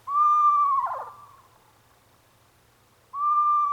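Screech owl calls come close and clear, a sustained whistle ending in a rough trill, then a pause of quiet before a second whistle begins, with no other sounds.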